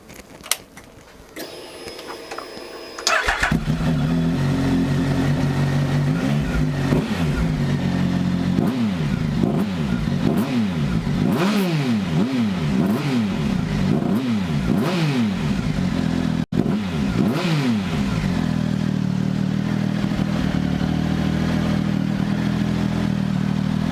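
A 2016 Triumph Speed Triple fitted with an Arrow exhaust starts up, then idles loudly and gets revved repeatedly in quick rising-and-falling blips before settling back to a steady idle, close by.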